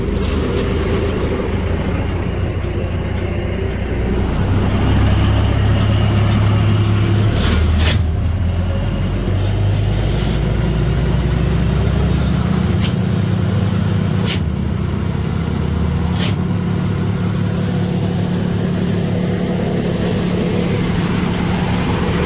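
A 2015 Bandit 200UC wood chipper's engine running with the PTO engaged, a loud steady low rumble that swells as the engine revs up and holds, with faint clanks over the drone and no talking.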